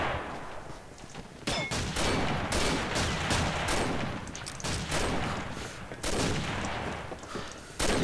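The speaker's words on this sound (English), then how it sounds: "It's a weird feeling when you hear gunfire all around you" Dense video-game gunfire rattles from all sides in a Combat Arms match, near and far bursts overlapping in steady, loud volleys across the whole stretch with brief lulls between clusters of shots.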